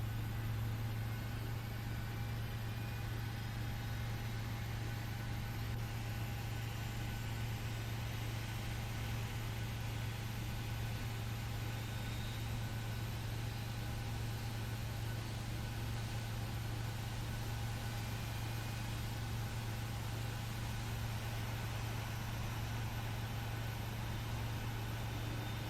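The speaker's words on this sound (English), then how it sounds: "Gonna give it a few seconds and then we can release some fuel to get engine number 2 fully started" Engine number 2 of a PMDG 737-800 spools up in the Prepar3D flight simulator, a steady, even drone with a low hum and a faint high whine that holds for the whole stretch, with no talking.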